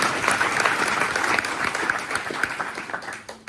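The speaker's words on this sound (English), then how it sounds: "How about a round of applause for" A round of applause at a tourism town hall in Carmel-by-the-Sea, a steady crowd of clapping hands at moderate loudness that tapers off near the end.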